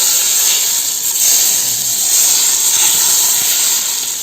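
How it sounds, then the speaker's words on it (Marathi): A tadka of hot desi ghee poured for zafrani chicken biryani, giving a loud, close, continuous hissing sizzle that swells slightly and holds for several seconds with no talking. "आपण फोडणी देतो ना तडकाला आवाज पण आला ना."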